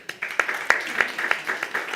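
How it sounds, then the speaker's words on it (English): Audience applause at the Cocoa Barometer launch event, scattered and fairly thin, with a few distinct hand claps standing out over a soft crackle of many hands, moderately quiet and without speech. "Round of applause to Francesco,"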